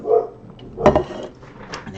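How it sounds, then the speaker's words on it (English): A few short barks and yips from dogs, one sharp bark standing out among muffled, scattered yelps at moderate distance. "There go the dogs."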